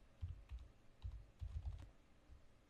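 Fingers type on a computer keyboard in quick irregular bursts of soft clicks and thumps, with brief pauses between groups, quiet and close with no voices.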